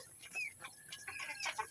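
Farm chickens clucking close by, a few short quick clucks in a quiet rural setting.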